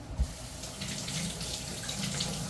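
Raw sweet potatoes being prepared for canning are washed under a running kitchen faucet, making a steady close splash of water into the sink after a brief knock at the start.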